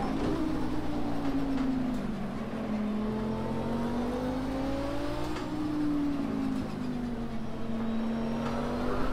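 A race car engine in Project Cars 2 drones loudly and continuously, its pitch rising and falling through gear changes and throttle lifts over several seconds, with no talk.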